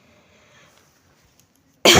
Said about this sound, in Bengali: এখনও পর্যন্ত কাশি হচ্ছে